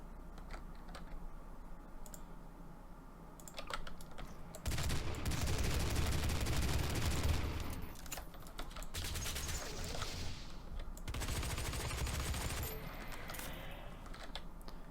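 Heavy assault rifle fire in Garry's Mod, loud dense bursts of rapid shots with a thick, full-bodied crack, swelling in two long stretches over a steady background clatter, no talking.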